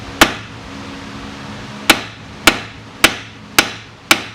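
Hammer striking the side of a tapered tie rod end on a 2008 Pontiac Grand Prix, six sharp metallic blows, one then a pause and five at a quicker steady pace, loud and close with brief ringing decay.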